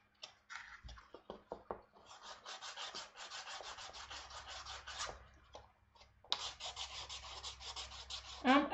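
Someone sands Halo SPI ab plates by hand with a small piece of sandpaper, giving close, scratchy rubbing strokes in quick repeated runs with brief pauses between them.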